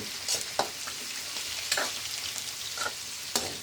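A spoon stirs ginataang gulay, vegetables simmering in coconut milk, giving a handful of soft scraping strokes over a steady, quiet sizzle in the pan.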